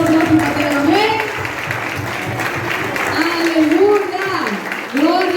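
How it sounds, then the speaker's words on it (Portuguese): Church congregation clapping in praise during a Portuguese-language evening worship service, a steady dense applause filling the room, with voices mixed in and a speaker's voice rising over it near the end. "Vamos aplaudir o Senhor pela vida dela, amém?"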